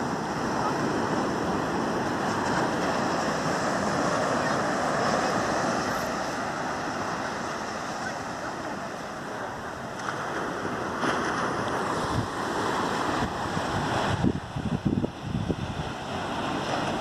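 Indian Ocean surf rolls onto a quiet beach near Perth, Australia, as a continuous wash of breaking waves with gusty wind buffeting the microphone throughout.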